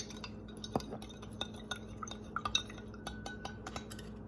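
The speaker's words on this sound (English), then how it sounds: "I'm going to take my handy dandy spoon and I'm going to stir." A spoon stirring salt and oil in a container, light clinks and scrapes against the sides in an uneven rhythm, close and quiet with no talk.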